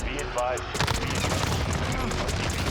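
Rapid automatic fire from an MP5 submachine gun in Call of Duty: Modern Warfare, a dense sustained burst of close, loud shots rolling on for several seconds with a voice talking over it.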